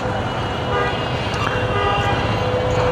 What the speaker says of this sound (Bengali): শান্তিনগরের এই সিগন্যাল কুত্তার মতো